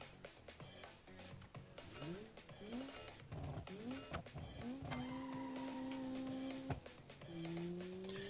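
A GEC GR2 2.0 car in the BeamNG racing game, with its engine revving up through repeated rising gear pulls and then holding a steady, sustained drone, fairly faint under background noise.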